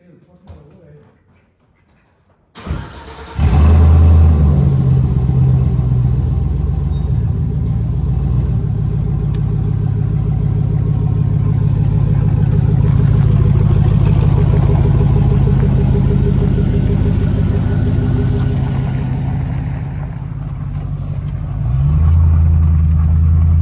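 A 2006 Chevrolet Silverado with its muffler removed idles after starting, a loud, deep, steady rumble heard from inside the truck, while someone talks over it at times.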